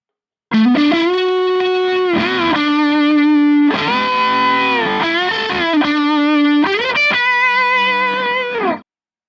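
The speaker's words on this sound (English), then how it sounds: "So that was the fuzz face sound with the Colorsound." Electric guitar through a Colorsound fuzz pedal set for a Fuzz Face tone with the gain maxed, a thick, saturated sustained line of held notes and bends playing alone, steady and loud throughout.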